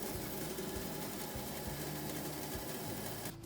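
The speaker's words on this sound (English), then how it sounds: "I'm using the bandsaw as a sort of file to square out the bottoms" A bandsaw runs continuously with a steady mechanical whir and buzz while cutting and squaring notches in the dials, loud and close, cutting off abruptly at the end.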